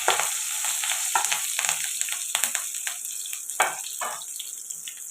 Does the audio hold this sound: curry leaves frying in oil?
yes